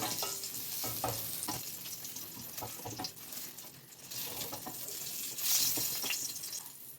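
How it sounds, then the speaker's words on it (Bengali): Pointed gourd (potol) frying in oil while it is stirred, with a continuous sizzle and repeated scraping strokes of a spatula in the pan, and a brief watery splash near the end. "ভালো করে নাড়িয়ে ভেজে নিতে হবে।"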